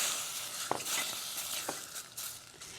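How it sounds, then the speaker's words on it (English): Artichoke sautés without oil alongside onions and garlic in a pan, giving a soft, steady sizzle with a couple of faint stirring clicks, quiet and close with no voices. "Hear that sizzle?"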